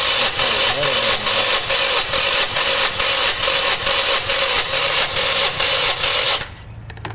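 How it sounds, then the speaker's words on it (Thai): A Toyota Vios engine cranks over on the starter during a cylinder compression test, a loud, rapid, rhythmic churning whir that holds steady for several seconds before cutting off abruptly. "ให้เฉพาะเครื่องยนต์ มันหมุนอย่างเดียวนะครับ"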